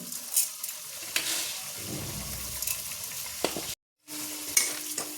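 Cauliflower masala with salt and sugar is stirred in a frying pan, a steady gentle sizzle with scraping strokes, a brief drop to silence near the end before the frying resumes.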